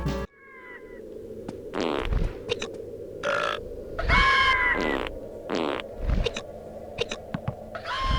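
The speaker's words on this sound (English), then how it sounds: "the chicken that farts on the swing by himself" Cartoonish farting noises from a chicken on a swing in an old video game: a series of loud, low, sputtering blasts mixed with squeaky synthesized game tones, repeating irregularly over a continuous background hum.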